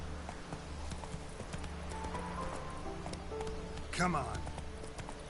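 Horse hooves clip-clop at a gallop in the video game The Witcher 3, a steady quiet rhythm with a short whinny-like burst near the end, heard under a man's speech.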